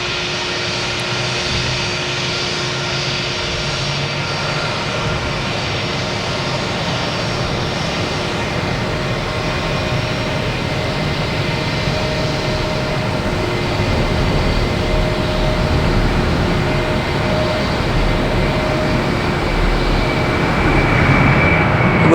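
Spirit Airlines and JetBlue airliners at Boston Logan Airport, a loud, continuous jet engine roar with whining tonal hums that builds slightly toward the end, heard alone without talk.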